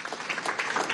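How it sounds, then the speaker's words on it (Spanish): An audience at a gathering of Venezuelan scientists and innovators gives a round of applause, dense, quiet clapping that keeps an even level through a brief moment. "Vamos a darle un aplauso a los profesionales venezolanos."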